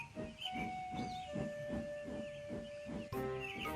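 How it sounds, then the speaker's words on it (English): A steam locomotive chuffs rhythmically while steam hisses and a whistle holds a long tone, ending with a sharp burst of steam. "Twin columns of steam shooting high into the air."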